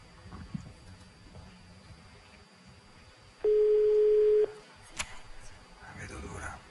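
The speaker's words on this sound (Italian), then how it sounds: "Sentiamo lo squillo in diretta." On a live Italian radio show a telephone line is dialled for an on-air call: a single steady tone about one second long rises out of a studio background of voices and faint noise.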